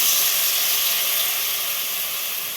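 Battered eggplant pieces fry in hot oil in a wok for achari begun, sending up a loud, steady, close sizzle that barely varies over a few seconds.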